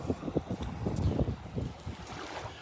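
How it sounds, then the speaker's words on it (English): Gusty wind on a Gulf beach buffets the microphone in uneven low rumbles, with a broad hiss behind it; no voices. "Breezy here on the beach"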